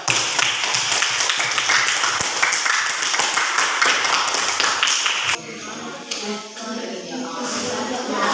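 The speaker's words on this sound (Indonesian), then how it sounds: "Kita berikan aplaus." A class audience bursts into dense, crackling applause for about five seconds before it fades and a voice takes over.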